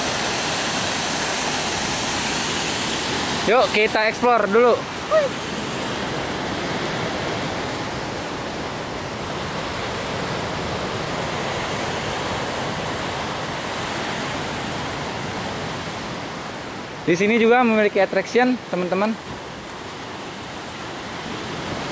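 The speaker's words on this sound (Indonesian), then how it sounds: "Ombak sini besar-besar." Continuous roaring surf of large waves breaking nearby at high tide on Pantai Jogan beach fills the whole stretch, with brief bursts of people talking twice over the rush.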